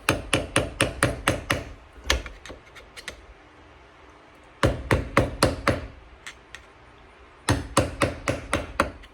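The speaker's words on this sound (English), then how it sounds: "we're going to take our screwdriver and just bend this down just a wee bit" A screwdriver is struck to bend a metal tab on a Harley-Davidson four-speed transmission during a rebuild. Sharp, close metallic taps come in rapid bursts of several hits, separated by quieter pauses, with no talking.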